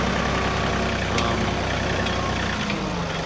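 Tractor engine running steadily at an orchard, a continuous low rumbling drone at close range with no talking.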